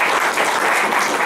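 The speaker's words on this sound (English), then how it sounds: "Let's clap for good stuff." An audience at a talk claps in a dense, continuous burst of applause, close and loud the whole way through with no one speaking.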